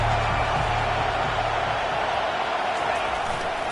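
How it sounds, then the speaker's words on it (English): Stadium crowd at a football game involving Clemson, a dense, constant roar of cheering that stays loud and fairly even, easing slightly toward the end. "They challenge this crowd to bring the energy, and I'd say they're doing that."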